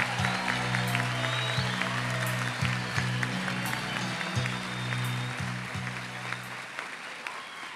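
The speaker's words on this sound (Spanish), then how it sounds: "damos un aplauso a los nuevos 171 graduandos" Sustained applause at a university graduation ceremony for 171 new graduates, with many hands clapping steadily over a droning musical tone, fading out near the end.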